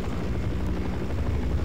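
A helicopter in Half-Life: Source thrums steadily with dense, low rotor chopping as it circles, loud and continuous with no talk.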